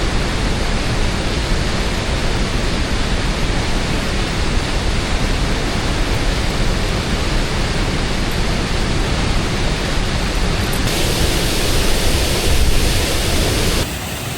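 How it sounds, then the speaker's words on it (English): A rushing waterfall heard from its top, a loud, dense, continuous roar of falling water close by, steady throughout with no voices. "We found the top of the waterfall."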